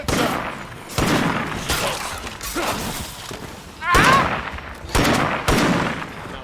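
Bursts of gunfire in State of Decay 2 crack out in short, irregular volleys with heavy thumps, loud and close, with voices talking in between.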